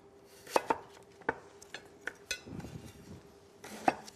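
A knife chops through firm sweet potatoes on a board, several sharp irregular knocks over about four seconds, close and clear with no talking.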